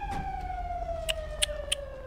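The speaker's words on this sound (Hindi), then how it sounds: "फायर ब्रिगेड का साउंड भी आ रहा था यहाँ पर" A fire brigade siren in the video game GTA V, a single steady wailing tone slowly falling in pitch, with a few sharp clicks and knocks over a low engine rumble.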